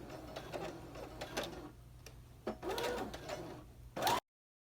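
A sewing machine stitches a seam with backstitching along the edge of a coat dress sash, running in several short, fairly quiet bursts with pauses between them; a brief louder burst comes near the end.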